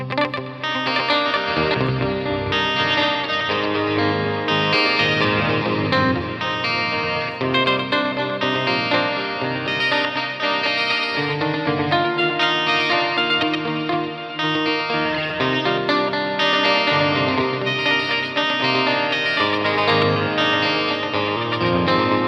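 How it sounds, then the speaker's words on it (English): Electric guitar played through the Neural DSP Archetype Misha Mansoor plugin with delay and modulation effects: dense, distorted chords and layered lead notes with echoing repeats and wide chorus shimmer, loud and continuous with no talking. "Yeah, I think the delay and"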